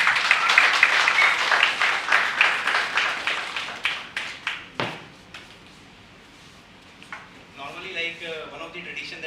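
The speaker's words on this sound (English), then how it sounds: "can we just give a applause to sir?" Audience applause at a convocation ceremony, a burst of clapping that fades out over several seconds, followed by quieter room sound and faint voices.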